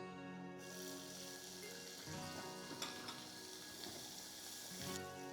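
Chopped onion frying in hot oil with chana dal, urad dal and Guntur chillies for tomato chitranna, a steady close sizzle with light stirring scrapes and no talking.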